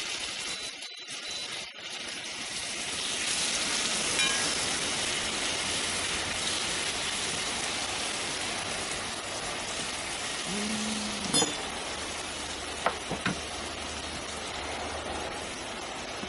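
Butter sizzling in a hot pan for a beetroot and walnut dish, a steady crackling hiss that holds throughout, with a few clinks and a brief scrape near the end.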